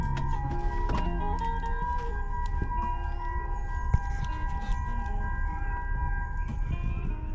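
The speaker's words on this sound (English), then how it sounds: "This is what the aero tag warning sounds like." A steady electronic warning tone holds a constant pitch throughout, with a low rumbling hum beneath it and a few faint clicks.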